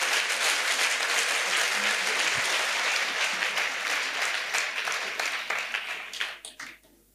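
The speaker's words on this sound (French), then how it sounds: "Let's clap to Jesus Christ." A large congregation applauds together at an outdoor salvation and healing crusade, the dense clapping loud and sustained before thinning into scattered claps and fading away at the end.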